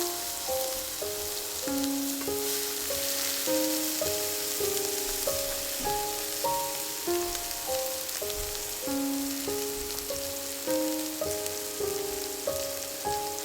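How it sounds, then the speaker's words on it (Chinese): A steak searing in hot oil in a pan gives a steady, close sizzle and crackle that runs throughout, with a bright tonal melody sounding clearly over it. "放牛排的时候注意手法，把整块牛排推进锅里"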